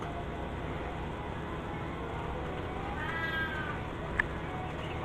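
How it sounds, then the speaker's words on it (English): A faint cat meow rises briefly amid steady background noise, followed by a short sharp click. "And you can hear my cat."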